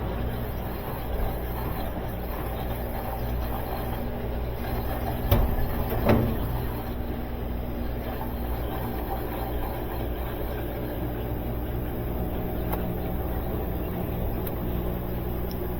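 A Whirlpool washing machine fitted with a Maytag control board runs its spin cycle with a steady, even mechanical hum and whir, broken by a couple of soft thumps partway through.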